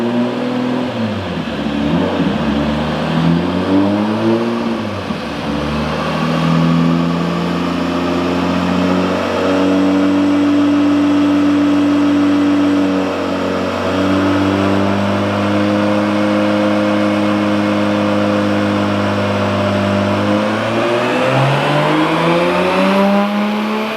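Nissan GU Patrol with a turbocharged RB25DET engine revving hard and continuously, a loud close roar sweeping up and down in pitch through repeated pulls without any talk.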